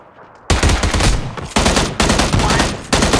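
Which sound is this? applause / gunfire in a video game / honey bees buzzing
gunfire in a video game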